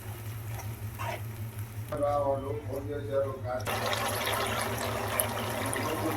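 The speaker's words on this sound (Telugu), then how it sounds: "ఇప్పుడు కొంచెం వాటర్ అయితే యాడ్ చేసుకున్నామండి" Water poured into a potato manchurian mixture in a pan gives a steady liquid pour with a sizzle, lasting about two seconds amid constant frying hiss and background hum.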